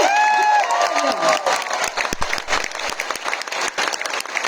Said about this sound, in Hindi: तो एक बार जोरदार तालियां अपने लिए बजा लीजिए।